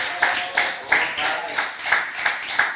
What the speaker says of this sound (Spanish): Denle un aplauso bien fuerte a nuestro Señor.